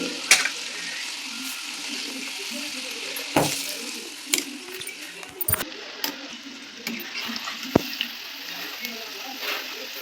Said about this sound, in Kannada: ನೋಡಿ ಕ್ರಿಸ್ಪಿ ಆಗೋವರೆಗೂ ಸ್ವಲ್ಪ ಕರಿತೈತಿ, ಅದು ಸೇರಿಸಿ ಇರ್ತೈತಿ ಬೆಳ್ಳುಳ್ಳಿ.